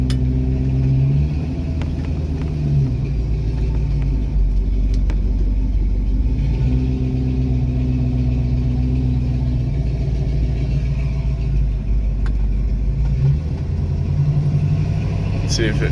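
A 1974 Plymouth Barracuda engine running with its automatic transmission shifting gears: a steady, close engine drone whose low tone steps up and settles as the gearbox changes, with a brief lull midway.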